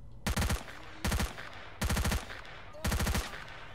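Heavy gun in S.T.A.L.K.E.R.: Shadow of Chernobyl firing four loud, separate bursts of rapid automatic shots, each about a quarter second long, with short gaps between them.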